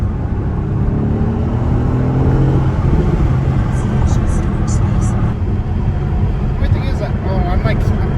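Lamborghini Huracan V8 pulling hard on a street run, a loud sustained engine roar and road rumble filling the whole stretch, with voices talking over it.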